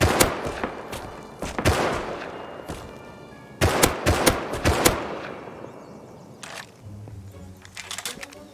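Rapid bursts of gunfire from players shooting off a rooftop in a survival video game, loud clustered volleys of sharp shots with brief gaps, followed by scattered single shots and fainter firing toward the end.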